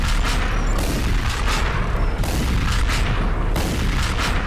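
Continuous loud gunfire and booming blasts from the retro shooter Hellscreen, a dense, unbroken barrage of shots and explosions filling the whole stretch with no pauses.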